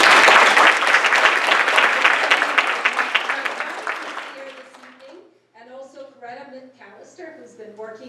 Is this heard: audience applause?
yes